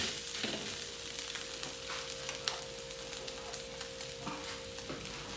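Rice being stir-fried in a pan for adobo fried rice, with chicken adobo: a steady close sizzle and frying hiss under occasional scrapes and stirring clatter, with no talk.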